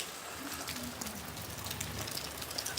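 A brief stretch of steady summer morning rain gives a soft, even patter on surfaces, close and continuous with no voices.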